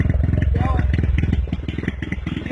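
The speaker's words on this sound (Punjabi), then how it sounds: "ਮਿੰਨੀ ਟਰੈਕਟਰ ਖੇਤ ਨੂੰ ਚੱਲਿਆ ਲੈ ਕੇ ਵੀਰ।" A homemade mini tractor built from tractor parts, pulling a trolley on its way to the fields, chugs steadily in a close, loud rhythmic putter while someone talks over it.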